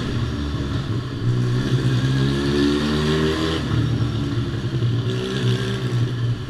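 A Kawasaki Z750 sport motorcycle engine revs up and down close by, its pitch rising and falling in long sweeps over a steady idle.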